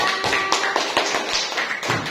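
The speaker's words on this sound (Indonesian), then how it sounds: "Ya, beri tepuk tangan lagi buat kelompok 4." A class of fourth-grade primary school students claps for a group of classmates during a science lesson, a close, dense patter of hand taps lasting about two seconds with no talk over it.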